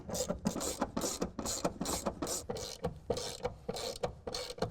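A ratchet tightens T30 bolts on a RealTruck SwingCase toolbox in the bed of a 2025 Ford F-150, giving rapid, close, repeated clicking strokes in a steady rhythm with no talk.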